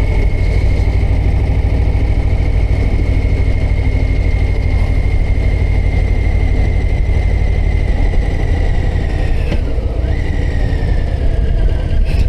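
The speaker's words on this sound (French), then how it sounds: "Ouais, le moteur est souple aussi." A Harley-Davidson Low Rider ST motorcycle engine runs steadily and loud throughout, a deep low rumble with a faint shift in pitch near the end, heard alone without talk.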